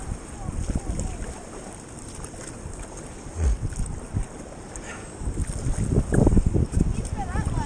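A kayak pushes through sea waves and swell off a rocky coast. Water sloshes and splashes near and loud against steady wind buffeting the microphone, with paddle strokes surging toward the end.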